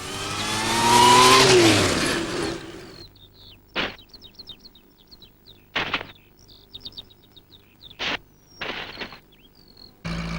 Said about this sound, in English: You're going to see some pretty hot driving now.